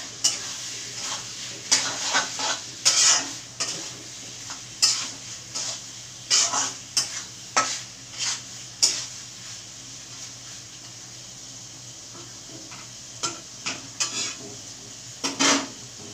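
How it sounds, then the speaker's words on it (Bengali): A spoon scrapes and stirs through ghugni in a pan as pre-fried potatoes go in, giving intermittent clinks and scrapes over a steady low sizzle, close and fairly loud. "এবার আমি দিয়ে দিচ্ছি এর মধ্যে ভেজে রাখা আলু।"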